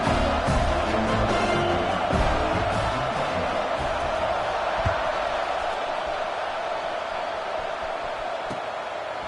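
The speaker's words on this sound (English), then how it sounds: "this crowd now ready to get behind them" A stadium crowd at a college football game kickoff, Oregon at Penn State, roars in a broad, sustained wash of cheering that slowly eases in loudness, with a faint voice underneath.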